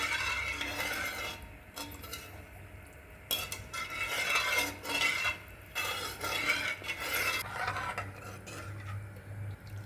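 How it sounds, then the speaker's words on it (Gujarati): A spoon stirs buttermilk being warmed in a pot on a stove, scraping and clinking against the metal in uneven bursts over a low steady background hum, no talking. "કન્ટિન્યુ એને આવી રીતે ચલાવતા રહેવું પડે, નહીં તો છાશ નીચે ફાટી જાય"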